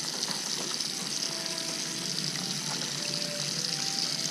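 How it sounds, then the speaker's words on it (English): Running tap water pours in a steady, even hiss while hands are washed before cooking Japanese breakfast dishes, close and continuous with no voices. "First, we're going to wash our hands"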